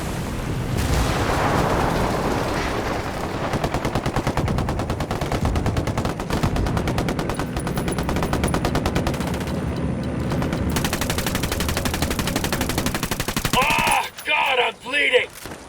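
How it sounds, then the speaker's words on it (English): Dense gunfire and heavy mortar explosions in the video game Ghost Recon Wildlands, with rapid automatic bursts rattling almost nonstop before a few final sharp impacts, loud and close. "How much mortar fire did you call for?"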